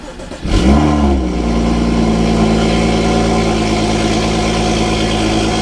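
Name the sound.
car engine starting and idling after cold air intake install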